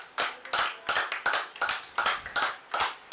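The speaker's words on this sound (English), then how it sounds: "The applause you can hear is from the posse of Worcestershire supporters gathered just in front of our commentary box" A small group of Worcestershire supporters in front of the commentary box at a county cricket match between Essex and Worcestershire claps in a brisk, fairly close rhythm, around a dozen distinct claps over a few seconds.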